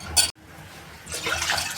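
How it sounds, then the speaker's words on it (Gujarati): Water is poured into kadhi in a pot: a brief splash, a moment of silence, then a longer gurgling pour that grows louder toward the end. "જરૂરિયાત અનુસાર આપણે પાણી એડ કરીશું."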